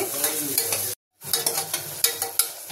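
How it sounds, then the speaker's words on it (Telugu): Chopped onions fry in hot butter and a spoonful of oil, a steady close sizzle with spoon stirring clicks, broken by a brief silent gap before the frying resumes. "బటర్ వేడయ్యాక ఇప్పుడు ఉల్లిపాయ ముక్కలు సన్నగా కట్ చేసుకునే కొంచెం ఫ్రై అవ్వాలి."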